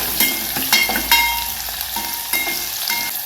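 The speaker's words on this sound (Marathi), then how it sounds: "कांद्याला छान असं थोडंसं परतून घ्यायचं आहे तेलामध्ये" Chopped onion and green chillies sautéing in oil over browned garlic, a steady close sizzle broken by a few sharp clatters and scrapes of a stirring spoon against the pan.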